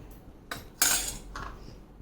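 A utensil scrapes and clinks against a pan while stirring lemon pickle sweetened with dates, a few short close scraping strokes with one louder sweep.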